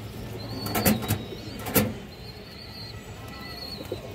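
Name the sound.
pigeons cooing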